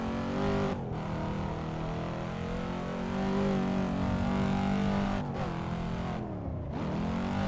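Honda S2000 touge build in a racing game, its engine screaming at high revs in a steady, loud tone with brief dips at gear shifts and a sharp drop and climb near the end.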